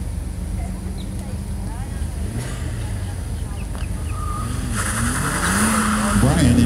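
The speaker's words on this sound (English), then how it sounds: "Brian in his 2009 Chevy Corvette on the backside" A 2009 Chevy Corvette runs an SCCA autocross course, its engine rising toward the end with brief tire squeal through the corners. An announcer talks over the car throughout.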